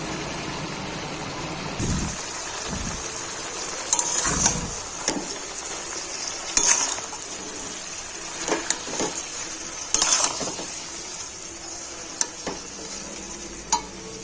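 Spinach and vegetables stirred in a frying pan for a Bengali palong shak chorchori: a low steady sizzle with repeated spatula scrapes and clatters at irregular intervals, close by and without talk.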